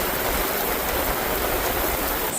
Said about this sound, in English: now we just got a bunch of rain